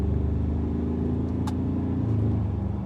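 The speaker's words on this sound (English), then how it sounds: "you're probably listening to the sound of this engine" Ford Ranger Raptor pickup engine idles in a steady, low rumbling drone, close and fairly loud, holding an even note with a brief faint higher click partway through.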